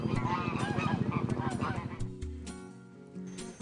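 Ducks and geese honk and quack in a noisy flock at Lindo Lake, a rapid run of overlapping calls that settles into a few longer honks, mixed with faint background voices.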